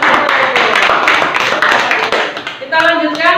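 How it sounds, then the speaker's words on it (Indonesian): Students in a religious education class clap for the first presentation group, a dense, close round of applause that fades, then a voice speaks briefly at the end. "Kita beri tepuk tangan untuk kelompok"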